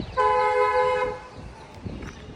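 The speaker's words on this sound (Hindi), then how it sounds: "देखो बहुत दूर से हॉर्न आ रहा है" A vehicle horn toots once at a petrol pump, a sustained harmonic blast of about a second that sounds fairly distant, followed by faint traffic rumble.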